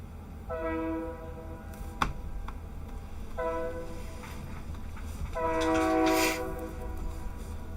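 A horn honks three times, each a short tonal blast with pauses between, the last slightly louder, over a low mechanical hum.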